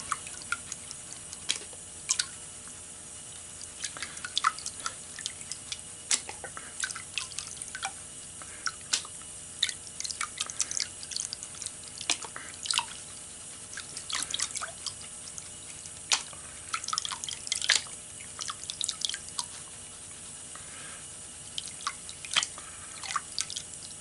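Gold paydirt with black sand swirls in a pan of water, producing scattered drips, splashes and trickles that come and go irregularly over about twenty seconds, close and soft with no talk.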